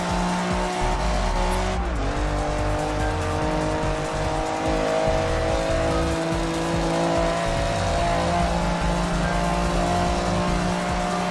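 A TVR race car in Project Gotham Racing 3 runs at a steady, loud engine drone, with a quick shift in pitch about two seconds in and tire squeal over the sustained motor.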